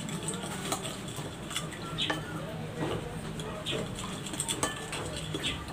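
Salad ingredients seasoned with salt, pepper and parsley flakes are stirred in a bowl, giving repeated soft clinks and scrapes of a utensil against the bowl in an irregular rhythm, close and moderately loud.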